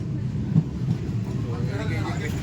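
A passenger train from Shalimar toward Patna rolls out of the station at night, a low steady rumble running beneath continuous nearby talk.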